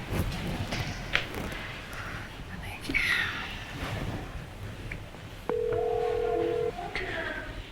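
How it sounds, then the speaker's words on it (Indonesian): Someone dials a telephone at home before calling a person, short tone beeps and a sustained dial tone heard near and clear, with soft voices and room noise around them. "mau coba telepon Randy dulu sebentar ya"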